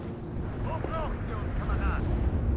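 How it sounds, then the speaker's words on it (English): Artillery shells explode in the war strategy game WARNO, a dense continuous rumble of booms and blasts with a whistling tone over it, steady and loud throughout. "they come under artillery fire"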